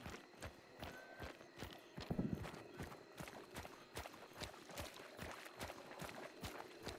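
Horse hooves clatter in a fast, steady clip-clop rhythm from a spooked horse in the Hunt: Showdown video game, a town setting, fairly close and continuous with no talk over it.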